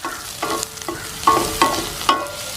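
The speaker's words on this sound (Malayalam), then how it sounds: "ഒരു 5-6 വെളുത്തുള്ളി അല്ലിയാണ് ഇളക്കാം" Five or six garlic cloves stir and sauté in a pan for American chopsuey, a soft steady sizzle broken by several scraping strokes of a spoon, close and moderately quiet with no talk.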